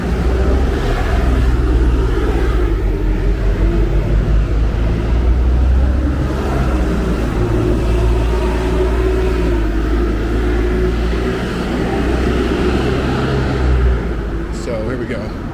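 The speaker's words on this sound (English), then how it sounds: "there's major bus lines running along this street" Street traffic on a Yerevan street with major bus lines, a continuous low rumble of engines passing nearby with a voice talking over it.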